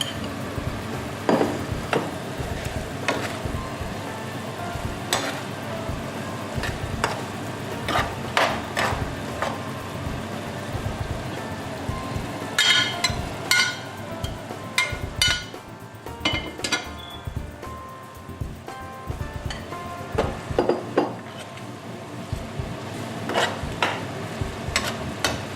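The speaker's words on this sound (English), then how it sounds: "Mix the gizzard and the plantain into the pepper sauce and simmer for about a minute" Gizzard and fried plantain are stirred into Nigerian pepper sauce in a pot, giving irregular spoon scrapes, knocks and clinks against the pan over a soft, bubbling sizzle, with no voices.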